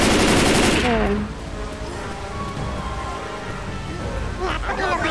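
Steady rain falling in Left 4 Dead 2 during The Passing campaign, a broad, even hiss after a burst of louder game noise at the start, with faint whistling tones later and no talk.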